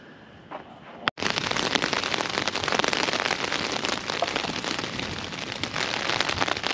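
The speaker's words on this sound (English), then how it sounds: "Okay, still raining." Heavy rain pours steadily onto a camping tent during a thunderstorm, a dense close hiss that starts abruptly after a sharp crack and continues unbroken.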